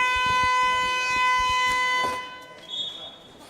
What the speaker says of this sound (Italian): suonano ora le sirene